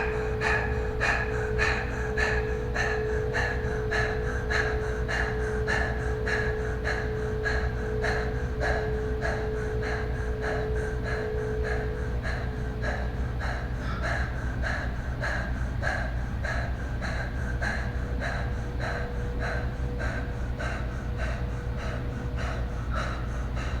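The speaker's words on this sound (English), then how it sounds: "We're going to do breath of fire, so equal inhale, exhale, letting the belly fill on the inhale, pulling the belly back towards the spine on the exhale" Rapid, evenly paced breath of fire yoga breathing, a steady train of sharp nasal inhales and exhales repeating for the whole stretch, close and fairly loud over a constant low hum.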